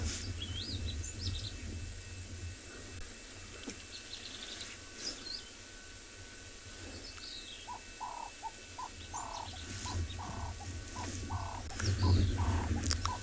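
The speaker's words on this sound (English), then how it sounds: "I can hear some other birds chirping" Scattered bird chirps and calls over a low outdoor rumble at sunrise, with a dove's rhythmic cooing joining in toward the end.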